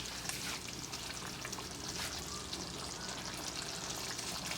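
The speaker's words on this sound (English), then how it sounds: "see how that spaghetti sauce is boiling down." Homemade spaghetti sauce bubbles and sizzles in a pan as it boils down, a steady dense crackle and spatter running throughout without pause.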